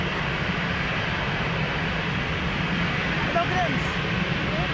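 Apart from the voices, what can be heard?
Air Canada aircraft landing on runway 02 at Lisbon Airport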